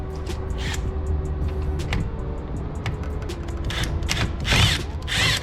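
A power tool whirs in short bursts while a hidden screw is backed out of the mirror panel of an Infiniti Q60/Q50, close and fairly loud, with small clicks and handling noises between runs and no talk.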